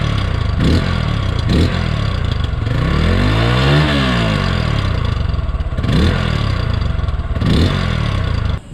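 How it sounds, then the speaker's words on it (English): A Hero Xpulse motorcycle fitted with a modified stock exhaust revs loudly and close up, with repeated throttle blips, one long rising and falling rev, and steady engine noise in between. "Check the sound."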